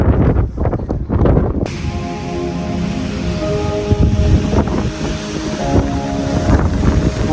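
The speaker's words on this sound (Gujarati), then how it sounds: "પવન બહુ જ છે હમણાં." Strong wind blows across Calton Hill in Edinburgh, roaring and buffeting the microphone loudly and continuously, with a low rumble beneath.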